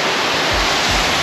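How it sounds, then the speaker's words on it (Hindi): Water pours down the Semi Langso waterfall in a dense, loud, continuous roaring rush, close and steady with a low rumble underneath and no voices. "ये रहा है और एक दूसरा वाटरफॉल, ऊपर से पानी गिर रहा है इधर"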